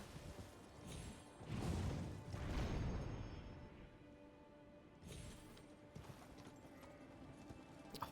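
Horse hooves clip-clop in the video game Elden Ring, a quiet rhythmic trot with soft whooshing swells underneath and no speech.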